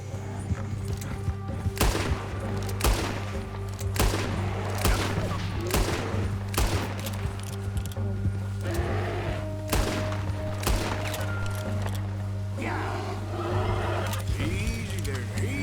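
Rapid gunfire volleys crack out repeatedly in Red Dead Redemption 2, loud sharp shots in bursts over a steady low hum, with horse hooves and a whinny nearby and someone talking between shots.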